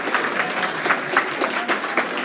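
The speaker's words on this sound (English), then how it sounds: "Give him a round of applause, everyone." A comedy club audience applauds Mike Carter, a steady, moderately loud patter of many hands clapping for the whole stretch.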